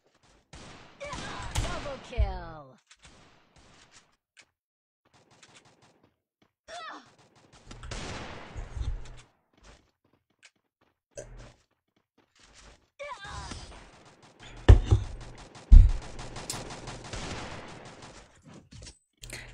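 Bursts of rapid gunfire from a shooting video game, clustered volleys with heavy thumps near the end, broken by quiet gaps and mixed with a voice talking.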